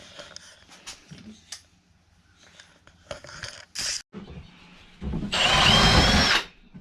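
A power drill pre-drills holes in marked boards during a shuttle bus conversion: scattered knocks and handling noises, then one loud, steady whirring burst lasting about a second close by.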